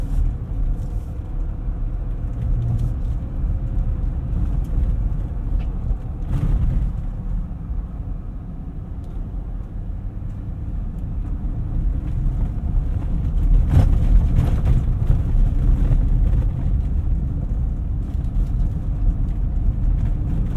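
A 2020 Jeep Gladiator Mojave rolls along a dirt road in two-wheel drive, its engine and tyre rumble a steady, close low drone with wind buffeting and a few sharp bumps, and nobody speaks.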